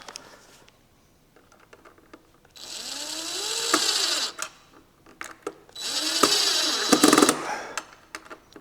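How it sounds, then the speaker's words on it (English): A power driver tightening screws during a jointer repair, two whirring bursts that rise in pitch, each lasting about two seconds, with softer clicks and handling noise in between. "I'm going to go ahead and tighten these down now."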